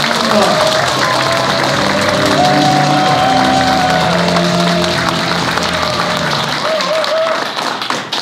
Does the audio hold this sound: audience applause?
yes